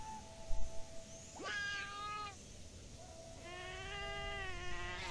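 A cat companion in the video game Monster Hunter Outlanders gives two drawn-out, wavering meows, one after a brief pause, clear over a soft game ambience, with no talking.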